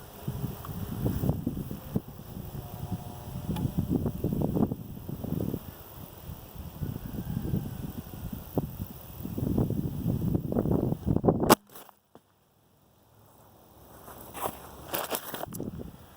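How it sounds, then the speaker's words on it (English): Gusty wind buffets an outdoor microphone in a continuous low rumble with crackling bursts, cutting out briefly near the end before returning in a few short gusts. "This wind just ain't cooperating"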